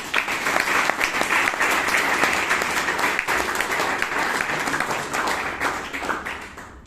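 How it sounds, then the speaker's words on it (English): An audience in a hall at a Toastmasters club meeting in Bangalore claps in a sustained, even round of applause that fades slightly at the end, with no talking over it. "please give Chiran a big round of applause."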